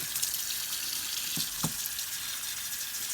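Water poured over potted haworthia succulents to drink and rinse dirt from their leaves, a steady broadband splashing hiss throughout with a couple of brief low gurgles near the middle, no voices.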